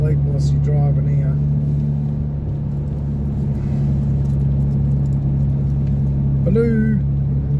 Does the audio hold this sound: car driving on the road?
yes